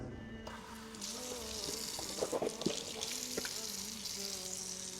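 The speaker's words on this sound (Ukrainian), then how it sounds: "Далі промиваємо рот та ніс." Tap water runs steadily into a sink during ablution as the mouth and nose are rinsed, with close splashing and gurgling bursts over the continuous flow and faint speech in the background.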